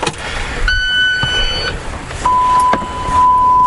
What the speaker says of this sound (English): Why are you beeping at me? Oh, my lights are on.